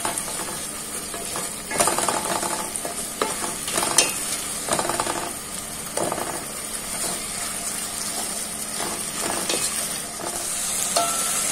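Ginger and garlic paste fry in hot oil for a Bengali mugdal beef curry, with a steady close sizzle and repeated scraping stirs from a spoon in the pan.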